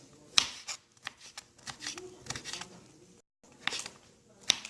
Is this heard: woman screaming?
no